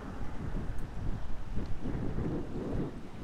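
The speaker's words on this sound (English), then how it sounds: "It's windy, but the wind's not cold either, is it?" Wind rushes steadily across the microphone while cycling on an e-bike through the Wye Valley, a loud continuous low rumble and buffeting with no gaps and no talk.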